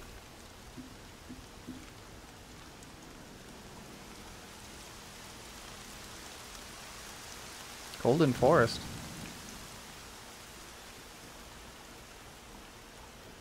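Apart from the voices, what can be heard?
rain in video game Horizon Zero Dawn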